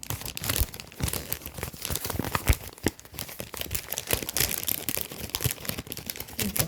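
A plastic pouch held with sticky tape is handled while unboxing embroidery supplies, giving continuous close crinkling and crackling with sharp tearing snaps.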